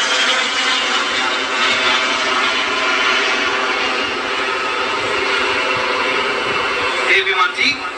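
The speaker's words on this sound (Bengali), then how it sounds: "চীনের তৈরি কেএইচডব্লিউ বিমানটি অত্যাধুনিক জেট প্রশিক্ষণ বিমান হিসেবে ব্যবহৃত হচ্ছে।" A Chinese-made K-8 jet trainer roars overhead during an air force parade flypast, a loud, steady broadband rush that swells toward the end, with a voice faintly under it.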